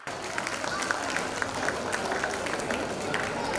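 Applause from an audience at a Jain community gathering, a steady dense wash of many hands clapping, fairly loud and continuous throughout.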